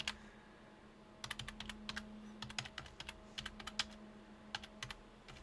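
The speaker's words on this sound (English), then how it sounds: "So I press A on the keyboard." Computer keyboard keys are pressed as Lightwave 3D shortcuts, giving quick, faint, irregular clusters of clicks over a low steady hum, close to the microphone, with nobody talking.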